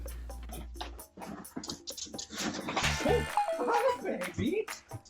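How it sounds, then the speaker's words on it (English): A small puppy yelps, barks and whimpers in short bursts indoors, close by, mixed with excited talking and cooing from people nearby. "Aw, what a cute little puppy."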